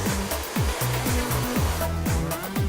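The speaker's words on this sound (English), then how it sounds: "the heat from the hairdryer will penetrate around the brush, drying that off for you" A hair dryer blows steadily and close up, with a constant airy roar and a low rhythmic flutter running underneath.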